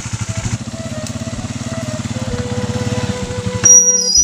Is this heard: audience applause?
no